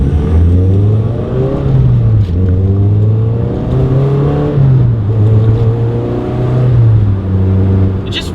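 A Mazda NC Miata with a swapped 2.5-litre engine revs steadily and loud up to about 4,000 rpm, the engine note rising and falling in smooth waves over several seconds.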